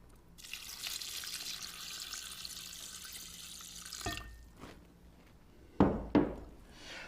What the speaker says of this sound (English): let's add a little bit of water